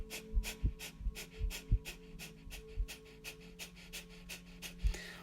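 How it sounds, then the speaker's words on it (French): Breath of fire yoga breathing during a vinyasa session: rapid, forceful nasal exhales in a steady quick rhythm, about three per second, close and clear with no talking. "on va pendant quelques secondes procéder à la respiration du feu, donc de la respiration ventrale qui est très dynamique"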